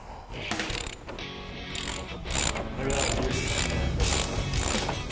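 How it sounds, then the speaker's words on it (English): A ratchet driving two 11/16 deep well sockets loosens the motorcycle's pivot bolt nuts, giving steady, close bursts of rapid clicking that repeat throughout with no talk. "we'll use two 11/16 deep well sockets to remove them"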